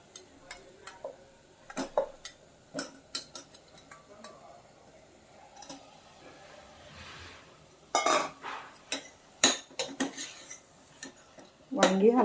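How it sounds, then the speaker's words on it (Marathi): Stuffed brinjals go into an onion and beetroot masala in a pan, with scattered clinks and knocks of a utensil against metal and some shuffling between them. "तर आपण ही वांगी घालूया यामध्ये."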